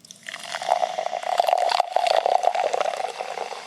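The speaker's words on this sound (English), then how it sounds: "I also have a glass to pour this in." Beer is poured into a glass close to the microphone, a steady, loud gurgling and splashing stream lasting several seconds with a foamy fizz.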